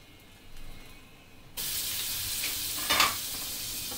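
Bread omelette cooking in butter in a large pan, a soft faint stretch that jumps midway into a louder steady sizzle with a brief scrape, no talk.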